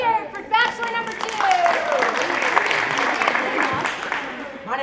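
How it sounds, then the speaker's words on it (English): An audience claps and cheers for a game show contestant, a dense burst of applause at close range that stays full for several seconds, with a voice speaking over it. "Let's hear it for bachelor number 2."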